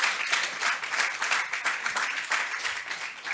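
An audience applauds as contestants arrive at a live challenge event. The clapping is steady and dense, with a slightly rising and falling roar and no clear voices.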